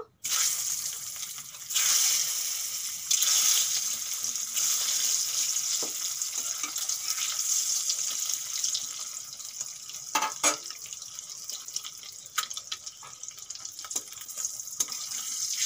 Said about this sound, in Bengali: তেলের মধ্যে দিয়ে দেবো সামান্য নুন আর একটু হলুদ, ডিমগুলো ভেজে নেব।